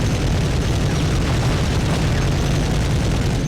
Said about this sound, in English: It's about the volume of an explosion